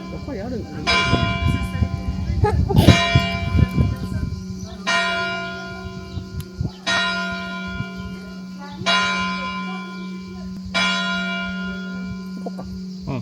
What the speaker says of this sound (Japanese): どこの鐘が鳴ってるんだろう。